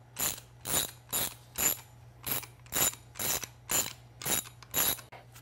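A ratchet and socket turning a 19mm nylon lock nut on a StreetStrider ET Fusion wheel: about ten rhythmic bursts of rapid pawl clicking, close and clear, evenly spaced with brief pauses, no talk.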